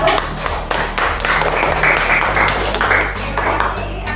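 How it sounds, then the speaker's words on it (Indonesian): Classroom applause for a student group after their presentation: many hands clapping in a steady dense patter for about four seconds, with murmuring voices underneath. "tepuk tangan buat kelompok 1"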